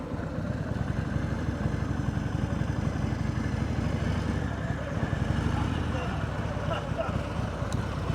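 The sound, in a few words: motorcycle engine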